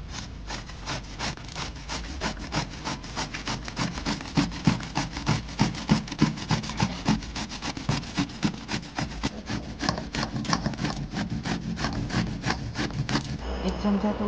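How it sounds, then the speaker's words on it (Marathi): Bottle gourd is grated for halwa, a fast, steady run of rasping scrapes against the grater, close and continuous for several seconds before stopping near the end. "आणि किसून घेऊ।"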